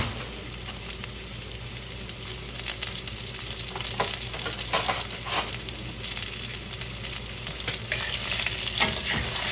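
Potatoes with sabudana and peanuts are tossed in a frying pan, giving a steady crackling sizzle under repeated scraping and clattering stirs that build slightly louder toward the end, with no talking.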